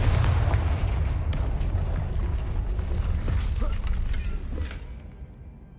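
A Confringo blasting spell detonates in Hogwarts Legacy, a deep booming explosion that rolls out loud and close, then rumbles and crackles with debris before tailing off into quiet.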